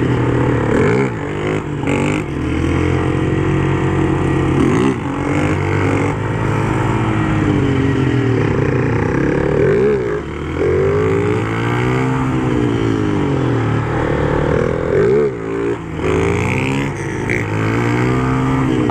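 A motorcycle engine revs repeatedly during wheelie practice, loud and close, with the throttle rising and falling in a series of surging pitch sweeps throughout.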